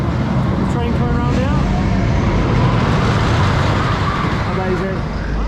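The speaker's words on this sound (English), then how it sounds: "The train coming around" A roller coaster train on the Wicker Man ride roars around the track at a theme park, a loud continuous rumble with rising and falling tones over steady crowd and park noise.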